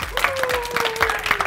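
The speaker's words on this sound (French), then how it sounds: "Je souhaiterais que tes supporters ils commencent à applaudir" Supporters applaud on a French-language TV show, a patchy run of clapping hands mixed with crowd noise while a voice and a sustained tone sit beneath.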